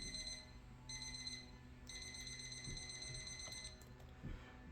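An alarm clock used as an audiobook sound effect gives off a high electronic beeping in repeated bursts with short gaps between them. It is faint and sits over low background noise, and a couple of soft thumps follow.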